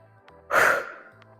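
A single breathy exhale during a squat workout, rising sharply and fading over about a third of a second against a quiet background with faint steady hum.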